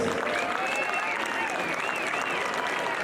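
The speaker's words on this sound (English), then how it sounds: "Let's give a huge round of applause for our volunteers." Steady crowd applause for volunteers at an outdoor parade, continuous clapping with some voices mixed in, moderately loud and even throughout.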